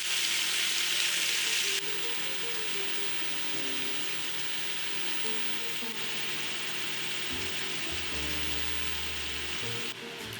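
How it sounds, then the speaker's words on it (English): Beef searing in a single layer in a pot, giving a dense, continuous close-up sizzle that crackles steadily without letup, alongside a faint low hum and no voices. "add the beef and sear until it's browned on all sides"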